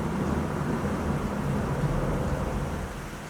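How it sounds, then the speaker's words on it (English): Steady rain pours during a derecho wind storm, a continuous broadband wash with a low rumble underneath, moderately loud and unbroken, fading slightly at the end. "There's still a lot of rain going on, still a lot of lightning."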